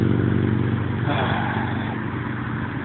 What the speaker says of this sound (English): it sounds like no mufflers on it, just cranking it